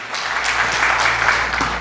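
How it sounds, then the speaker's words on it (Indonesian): Church congregation applauding together during a worship service in Jakarta, a steady wash of clapping that stays even and fairly loud for its short length, with no voices over it. "Beri tepuk tangan yang meriah."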